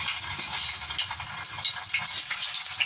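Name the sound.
egg frying in a pan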